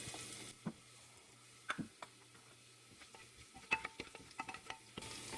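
Dal lentils cooking in a pan, a faint low sizzle under a quiet room with scattered small clicks and taps, close but soft throughout.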